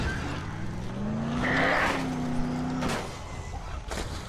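A car in the video game Dead Island accelerates at full throttle, its engine tone rising steadily with a tire-squeal-like whine over a constant roar, moderately loud and without speech.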